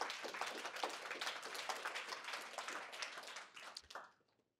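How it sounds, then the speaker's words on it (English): An audience clapping at a talk, brisk and fairly distant, sustained for several seconds before tapering off into silence. "Clap for that."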